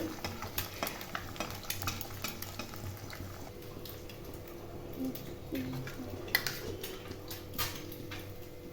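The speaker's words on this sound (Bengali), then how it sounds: "দেখি আমার কড়াইটা গরম হয়ে গেছে আমি ডিমটা আবার দিয়ে দিই" An egg fries in a hot wok, a soft, steady sizzle with a few light scrapes and clicks of a utensil, quiet and close.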